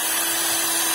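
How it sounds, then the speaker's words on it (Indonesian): A power drill boring holes into a durian tree trunk, a loud steady whirring drone that holds at constant pitch close by with no talk. "Kita bor menyeluruh"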